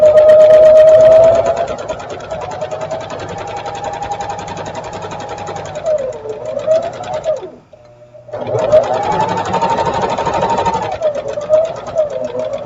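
Sewing machine chain piecing quilt strips, a loud rapid mechanical whir of stitching running continuously, briefly stopping for a moment near the end before resuming.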